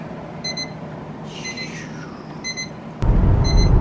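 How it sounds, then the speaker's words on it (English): A meat thermometer's notification alarm gives short, repeated electronic beeps in evenly spaced bursts. A louder rumbling noise cuts in toward the end. "So you can hear the alarm, and you can see the thermometer and the piece of meat."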